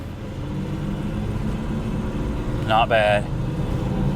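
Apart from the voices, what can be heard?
worn right front hub bearing noise of a car driving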